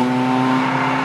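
A Ferrari 430 Scuderia sports car engine idles continuously with a steady, low rumble and smooth droning hum, no talking, close by and moderately loud.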